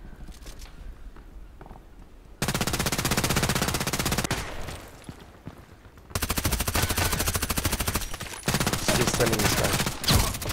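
Rapid automatic gunfire in the Contract Wars video game rattles in loud sustained bursts, separated by quieter stretches with softer movement sounds.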